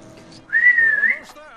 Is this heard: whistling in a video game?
yes